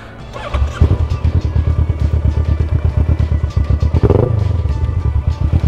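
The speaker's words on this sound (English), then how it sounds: "Check it out, aftermarket exhaust." Kawasaki Versys 650 motorcycle with an aftermarket exhaust while riding, a loud, close, throaty engine note with a rapid pulsing rumble that rises briefly as the throttle opens, with no voices.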